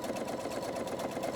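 A sewing machine stitches the border of a quilt, a steady fast mechanical whir and rhythmic needle chatter running continuously at moderate level.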